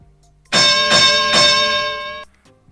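Bright, ringing bell tones strike in about three quick overlapping hits, then sustain loudly for nearly two seconds before cutting off, heard alone and close.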